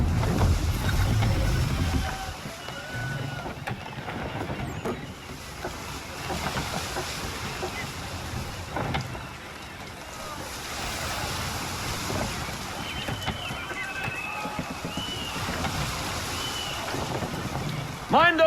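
Sailing ship under full sail in Assassin's Creed 3: steady rush of wind and water against the hull, continuous and fairly loud, with creaks and faint distant calls over it.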